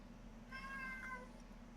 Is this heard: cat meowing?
yes